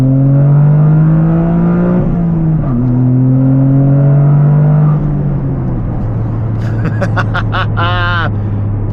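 A Toyota GR Corolla's 300-horsepower 3-cylinder engine pulls hard under acceleration, a loud droning note that climbs through gears with shifts, then settles as a voice speaks briefly near the end.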